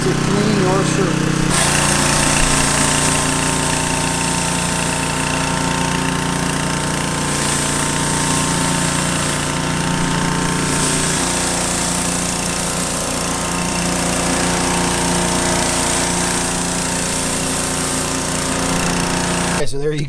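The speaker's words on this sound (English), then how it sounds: "the Mekoh 15-inch surface cleaner, heavy duty, gonna get the job done" Mekoh 15-inch heavy-duty pressure washer surface cleaner working a driveway, a loud, continuous droning whine with a rumbling engine undertone that holds steady for about twenty seconds up close.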